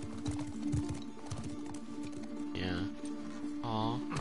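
Horse hooves clip-clop in a steady rhythm in the video game The Last of Us Part 2, moderately close, with a couple of whinnies and a player talking over the plodding steps.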